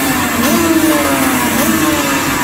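A Honda NSR 500 two-stroke racing motorcycle engine drones loudly and steadily, its pitch rising briefly twice as the throttle opens.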